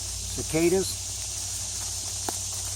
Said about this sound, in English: Here are the cicadas,